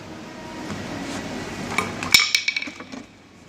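Metal tool clinks and knocks as a copper hammer is picked up and set down among other tools in a toolbox, a few sharp rattling hits near the end.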